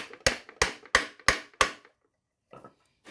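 A gear being tapped back into a tractor transmission on a cheap LS MT125 tractor: five sharp, close metallic taps in an even rhythm, then a brief pause and a faint softer knock.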